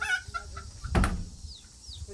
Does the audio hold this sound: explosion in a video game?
no